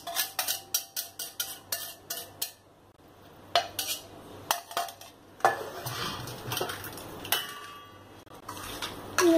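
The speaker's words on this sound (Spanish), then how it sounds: "Y esto lo revolvemos." A utensil clatters and scrapes against a bowl while a leftover tortilla mixture is stirred, giving a series of sharp, close, irregular clinks and knocks with short pauses and no talk.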